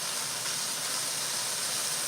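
Lamb searing in a hot pan, a steady, even sizzle and hiss at moderate level with no talk over it.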